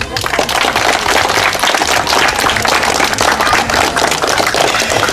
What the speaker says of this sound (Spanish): Fuertes aplausos para la corporación.